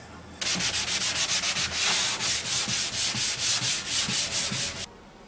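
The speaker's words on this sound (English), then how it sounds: "I'm going to sand this with a real light sandpaper" A pine toy box gets hand-sanded with light sandpaper in quick, even back-and-forth rasping strokes, about twenty rhythmic passes, loud and close, with no talk.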